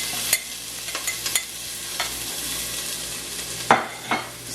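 Ingredients tipped into a pot of hot extra virgin olive oil over medium heat set off a steady broad sizzle, with a few sharp clinks and stirring knocks against the pot.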